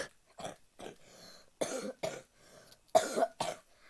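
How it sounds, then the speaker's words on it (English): A string of close, quiet coughs and throat clearing in separate bursts with short pauses between them. "my apologies for the coughing."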